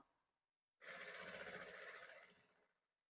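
A Jack F5 sewing machine runs a lock stitch in one continuous, fast burst of rapid mechanical clatter lasting about two seconds, close and alone before winding down.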